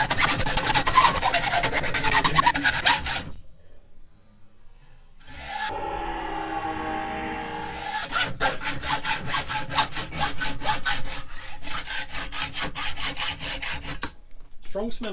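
A Honda C70 motorcycle frame is sawn through with steady, rasping strokes, close and loud. The cutting pauses for a couple of seconds partway, then resumes in a quicker rhythmic run.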